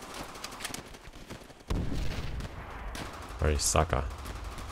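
Gunfire from a World War II rifle in the PC shooter Call of Duty: World at War, sharp shots bursting out among game noise while someone talks over the action.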